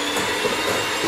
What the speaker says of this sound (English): So now I'm just going to whisk together my butter and my sugar.